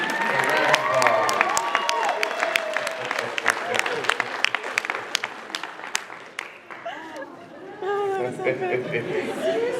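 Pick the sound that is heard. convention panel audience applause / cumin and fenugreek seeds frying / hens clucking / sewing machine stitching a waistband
convention panel audience applause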